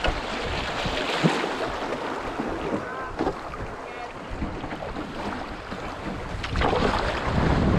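Canoe moving forward on a whitewater river, a steady rush of flowing water with wind buffeting the microphone and occasional paddle splashes, soft voices faintly in the background.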